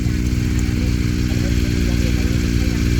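A second-hand adventure motorcycle engine runs steadily and close by, a constant low throbbing drone throughout with no pauses.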